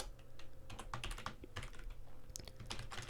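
Code typed on a computer keyboard for a Unity game menu: quick, uneven bursts of close, fairly quiet key clicks with brief pauses between.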